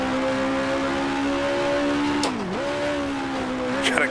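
A 1966-era racing car engine in the Grand Prix Legends sim holds a steady high whine, then dips sharply as the driver lifts or downshifts and climbs again, loud and continuous with no voices.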